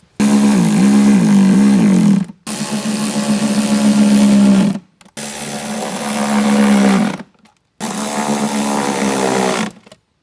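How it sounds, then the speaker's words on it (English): Power tool driving 10 mm bolts on a subwoofer enclosure for a Bronco, in four loud, close whirring bursts of about two seconds each with short silent gaps between them. "I'm going to go ahead and tighten them down."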